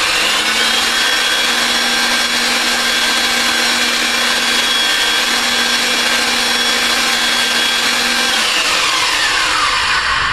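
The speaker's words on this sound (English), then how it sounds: "as the machine's threading, you'll see some of the filings being cut off by the dies" A pipe threading machine cuts threads into rigid pipe with its dies, a loud, steady grinding whir with a constant motor hum running unbroken for about ten seconds, then the hum drops near the end.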